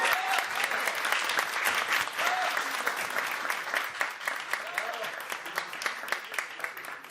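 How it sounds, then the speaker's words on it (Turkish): Steady audience applause fills a hall during an iftar dinner, dense continuous clapping holding at moderate volume throughout, with faint voices underneath. "Ona bir kocaman alkış almak istiyorum."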